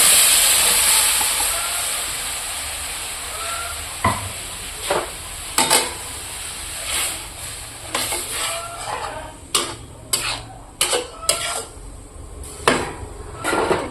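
Onion, ginger, garlic and chili paste cooks in a pan with no oil, giving a steady loud hiss and bubbling boil, broken by repeated sharp scraping and stirring clicks from a utensil against the pan.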